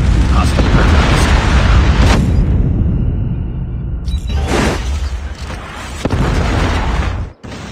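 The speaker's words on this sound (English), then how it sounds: "Friendly Predator missile inbound." A Predator missile strike in the Call of Duty Mobile game sets off loud, rumbling blasts with broad roaring bursts and a sharp cut near the end.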